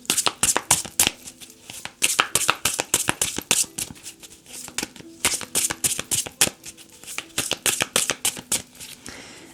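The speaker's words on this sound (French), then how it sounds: "je vous fais le petit tirage pour l'extension" Oracle cards are shuffled rapidly and close up, producing dense, regular bursts of papery riffles and slaps that pause only briefly before continuing, with no talk over them.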